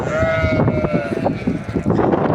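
Several sheep bleat in a crowded pen holding a large flock of lambs brought in for sale, with wavering calls overlapping one another at close range.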